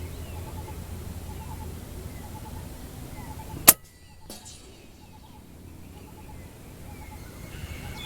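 FX Impact MkII 700mm air rifle firing .217 slugs outdoors, a single sharp crack midway with a faint impact thud just after, surrounded by quiet ambient hum.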